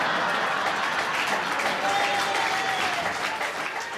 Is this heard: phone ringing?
no